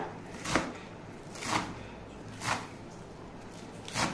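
A knife chops helencha greens on a board in a home kitchen, four distinct cuts at an even, slow rhythm of about one per second, close and fairly loud against a quiet background.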